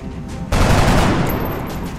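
A sudden loud volley of gunfire erupts during an XCOM: Enemy Unknown battle. The shots are dense and sustained, ringing out close and harsh after a brief quieter lead-in.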